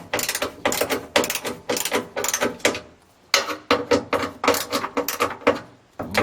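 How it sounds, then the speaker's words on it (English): Screws on a faulty Westinghouse cooktop being tightened by hand, a run of rapid ratcheting clicks in repeated bursts with short pauses between, close and loud, no talking. "I'll go around to the other screws, and I'll tighten them as much as I feel that I'm able to."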